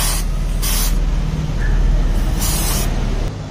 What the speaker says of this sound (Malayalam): അതിന് മുമ്പേ നന്നായിട്ട് ഒന്ന് ഷേക്ക് ചെയ്തിട്ട് വേണം സ്പ്രേ ചെയ്യാനായിട്ട്